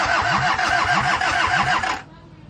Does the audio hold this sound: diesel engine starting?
yes